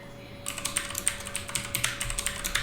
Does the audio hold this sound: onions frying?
no